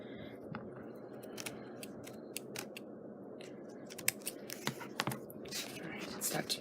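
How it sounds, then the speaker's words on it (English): Scissors snip frayed paper in a series of small, quick, close clicks and cuts, faint over a low background hiss, growing busier toward the end. "let's see if we can clean it up with the scissors a little bit here."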